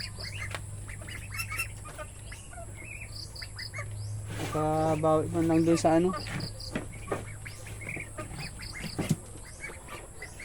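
Farm ducks (itik) break into a short flurry of loud, harsh quacks midway, while someone talks nearby and birds and insects chirp in the background.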